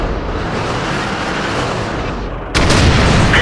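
A tank cannon fires at an E-100 in World of Tanks, heard as a sudden loud broadband blast partway through, cutting in over a steady dense rumble of battle noise.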